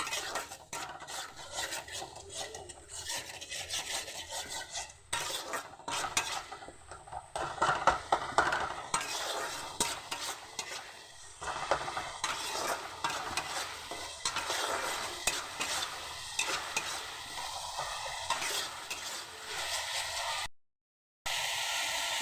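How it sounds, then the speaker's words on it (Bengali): Ginger-cumin spice paste stir-fried in a pan with a splash of water, a steady close sizzle broken by repeated spatula scrapes and clinks against the metal, continuing without talk and cutting out briefly near the end. "এবার মশলাটাকে কষিয়ে নেব।"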